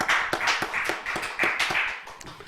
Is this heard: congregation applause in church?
yes